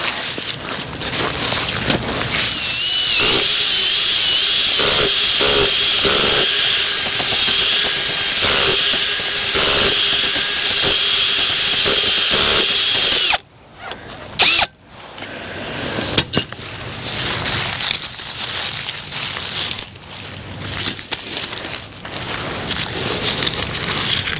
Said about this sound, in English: But the auger does make a nice hole.